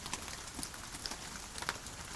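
Soft, soothing rain falls in a continuous faint patter, with scattered individual drops ticking against a surface.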